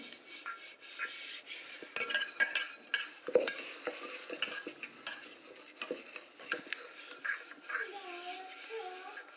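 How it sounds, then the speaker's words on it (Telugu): A pressure cooker being greased with oil while making a spongy cake, giving soft close clinks and scrapes of a utensil against metal, with a faint voice in the background. "సో నేను కొంచెం ఆయిల్ వేసి గ్రీస్ చేస్తున్నాను"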